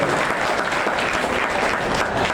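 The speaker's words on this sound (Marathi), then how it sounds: "आपण याच्यासाठी टाळ्या वाजवूयात" Steady, dense applause from an audience welcoming guests and department heads at an award ceremony, filling the whole stretch evenly without a break and with no voices above it.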